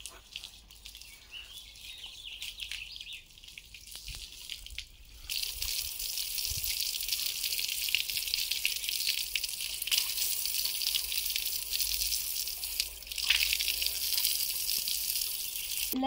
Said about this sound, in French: à mettre de l'eau dans la crinière en brosse